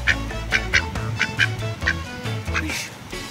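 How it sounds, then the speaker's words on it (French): A duck quacks repeatedly in short, nasal bursts on a mountain hike, fairly close and loud, with a low hum and faint voices underneath. "Le canard il est là."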